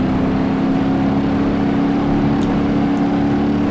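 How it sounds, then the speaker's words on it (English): A car engine in BeamNG Drive hums at a steady idle, a loud, continuous droning tone with no revving swells and no voices. "Keep the engine going."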